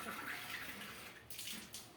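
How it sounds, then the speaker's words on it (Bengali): Water pours steadily into a clay pot indoors, a soft continuous splashing rush at low level with a couple of brief breaks in the flow. "ওই যে ঘটের মধ্যে জল ভরে রাখতেছে"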